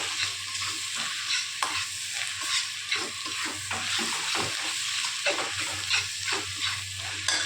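A curry being stirred in hot oil in a pan, with an ongoing sizzle under frequent irregular scraping and knocking of the spoon against the pan over several seconds, and no one speaking.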